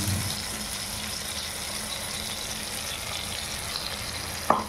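Cumin tempering with mustard, poppy seed and green chili paste fries in hot oil, a steady soft sizzle throughout with a brief sharp clink near the end, close and without talk.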